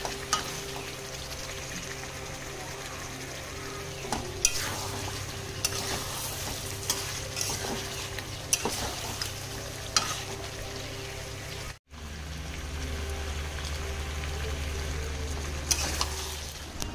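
Meat frying and being stirred in a pan, with a steady sizzle under repeated scraping stirs at close range, a brief cut near the end before the sizzle resumes.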